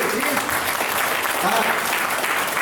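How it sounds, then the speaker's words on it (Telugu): A seated audience at a real-estate program in Guntur gives a short burst of dense, even applause, loud and close throughout with no pauses. "మీరందరూ గివ్ హిమ్ ఏ క్లాప్"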